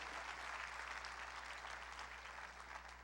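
A church congregation applauds during a worship service, a steady, fairly faint wash of clapping over a low electrical hum, continuous for the whole stretch.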